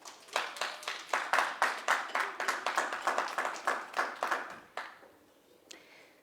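An audience at a social housing youth information session claps steadily for several seconds, a dense run of sharp hand claps that thins out and stops near the end, with no talk over it.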